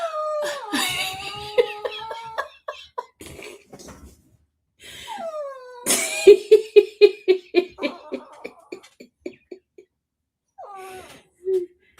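A dog howls and yowls in rising, wavering cries, then gives a run of short rhythmic huffing barks, close and loud, with a person laughing and speaking in between.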